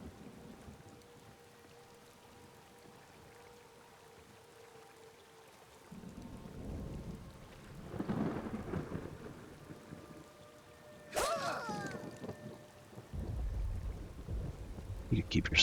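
Thunderstorm with rain in Skyrim: soft steady rainfall under several low, rolling thunder rumbles that swell and fade, plus a sharp crackling clap midway, moderately quiet overall.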